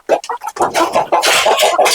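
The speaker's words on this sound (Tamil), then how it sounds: "கிளிமூக்கு கிராஸ் இது பெருஞ்சாதி கோழி" Native fighting chickens, a Kilimooku cross and Perunjathi breed, cluck and squawk close by in a short burst of rapid calls, with someone talking over them.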